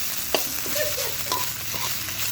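Home-pounded Thai curry paste stir-fried in a pan, a steady close sizzle broken by scraping stirs and a few sharp utensil clicks, with no talking.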